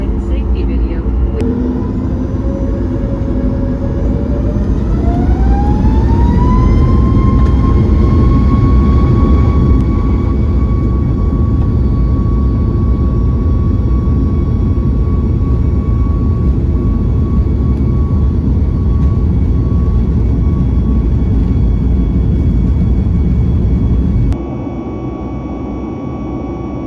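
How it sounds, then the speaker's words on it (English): A Turkish Airlines airliner taking off, heard from inside the business class cabin: a loud steady engine roar with a whine rising in pitch then holding steady as thrust builds, continuous and close, dropping slightly near the end. "And before too long, we were ready for takeoff."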